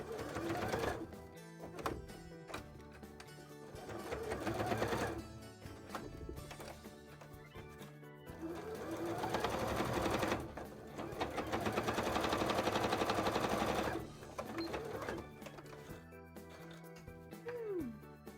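A sewing machine stitches leather gauntlets in long continuous runs, its rapid mechanical chatter rising and pausing in bursts over about eighteen seconds, fairly close and steady.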